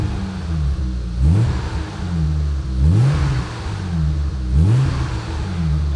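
A BMW Z1 sports car engine revs three times in a row, each rise a husky, throaty climb that stays at modest revs. The engine idles steadily between blips, close and alone with no talk.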